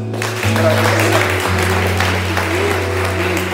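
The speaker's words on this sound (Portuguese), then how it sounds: "Aplaude ao Senhor." A church congregation claps together in a full, continuous round of applause during a worship service, with low sustained organ or keyboard tones underneath.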